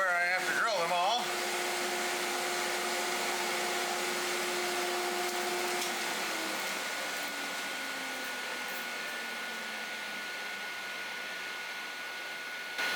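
A vacuum cleaner runs steadily in a workshop where a seven-string Les Paul style guitar is being built, a loud broadband roar with tonal whine that starts with a brief rising motor surge and then holds at an even level.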